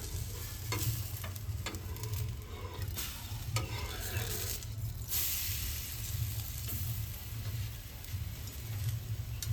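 Besan pudla, a gram-flour pancake, frying in a pan on a gas stove: a steady close sizzle runs throughout with occasional stirring or scraping scratches on top, and no voices.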